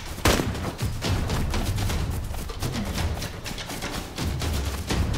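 Repeated gunfire from a Winchester rifle and other weapons in the survival game DayZ, sounding as a dense, sustained fusillade of sharp cracks and booms that carries on steadily for several seconds with no talking.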